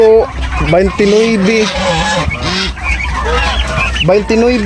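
Several chickens cluck and call nearby in a noisy yard, overlapping one another with a steady low rumble beneath.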